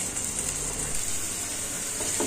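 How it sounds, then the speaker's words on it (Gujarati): Four potato slices frying in oil in a pan for a leftover-roti pizza, a steady soft sizzle and hiss that runs unbroken, with a faint clink near the end. "આ રીતના આપણે 4 બટેટાની સ્લાઇસ છે તે તેમાં તેલમાં શેકી લેશું।"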